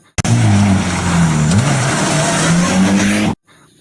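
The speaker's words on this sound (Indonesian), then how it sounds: "Yang ini mobil balap." A toy race car gives a loud, steady engine-like whine with a slight pitch bend midway, running continuously for about three seconds close to the microphone before cutting off abruptly.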